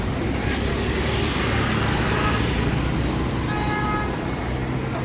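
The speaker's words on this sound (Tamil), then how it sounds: "இங்கே நைட்டு 12 மணி ஆனால் கூட இப்படி தான் டிராஃபிக் இருக்குது" Night road traffic in Mumbai, with a steady dense roar of cars, buses and trucks and scattered horn toots, continuous and fairly close.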